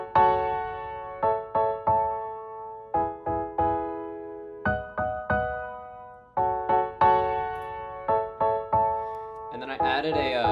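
Piano run through a tape delay, playing a rhythmic pattern of bright repeated chords and notes with soft echoing tails, clear and close, ending in a short burst of a different warbling tone.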